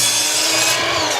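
Handsaw cutting a 5.5 inch wide wooden board to make a square piece, a steady rasping stroke sound filling the short stretch without pause, close and fairly loud with no talk.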